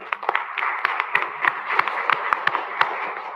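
A small group at a workshop meeting claps for a few seconds, sharp scattered hand claps over a soft murmur, fairly close.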